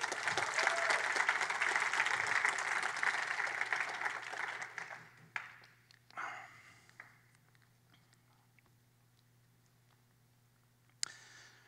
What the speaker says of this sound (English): can we get a really big round of applause for Jason and Shannon and everyone who has worked to put this thing together?